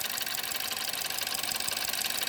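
A BMW engine runs after fuel injector replacement, a continuous faint idle hum with fine rapid ticking and a hiss-like mechanical texture, heard alone with no talk.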